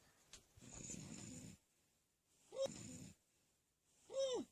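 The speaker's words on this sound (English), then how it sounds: "You're snoring" A woman snores loudly in three long, rasping breaths separated by quiet pauses, the last two ending in a whistling, wheezy tone close to the microphone.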